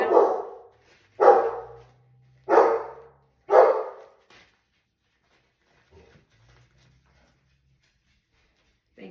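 A big dog barks indoors in a house: four loud, evenly spaced woofs, followed by a quiet stretch with only faint stirrings.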